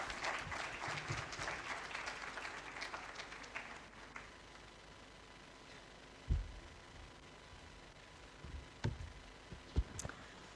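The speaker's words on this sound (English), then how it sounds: "let's welcome Justice Aisha Malik with another round of applause on the stage" Applause at the Federal Judicial Academy welcoming Justice Aisha Malik, soft and fairly distant, dying away after about four seconds into a quiet room with a few scattered knocks and clicks.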